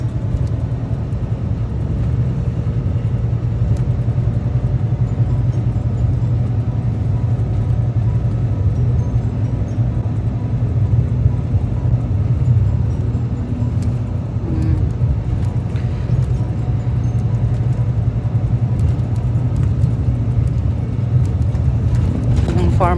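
Inside a bus driving on a road in Norway between Hønefoss and Oslo, a steady low engine hum and road rumble run continuously, with occasional clicks and rattles.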